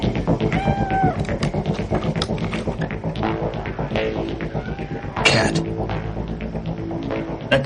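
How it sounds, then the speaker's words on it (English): A pet cat gives a few short, rising meows near the start amid a busy indoor background of music and household sound, with no clear talk. "That cat is a nuisance."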